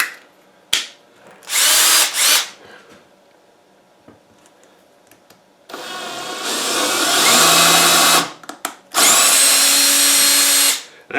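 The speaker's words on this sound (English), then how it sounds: "I'm going to chuck this tap in my drill," A power drill on low speed drives a thread tap into thin plastic in several separate bursts of loud whirring, with short quiet pauses between runs and a longer, steadier final stretch.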